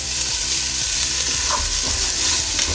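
Onions and celery sautéing in a Ninja Foodi give a loud, continuous close sizzle with scraping and stirring sounds as the vegetables are turned.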